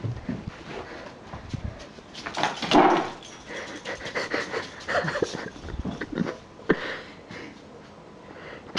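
A dog pants and sniffs close by during a chase game, with quick breathy rhythmic huffs and a few louder snorts at moderate volume.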